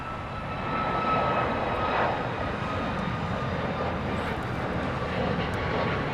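An American Airlines Boeing 737 Max 8 jet at LAX rumbles steadily and fairly loud as a broad, continuous engine roar, holding level for several seconds with no talk over it.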